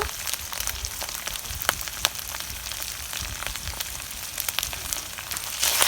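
Potatoes and eggplant sizzle steadily in hot oil and spices over a clay stove, a constant crackling fry with occasional sharper pops and stirring.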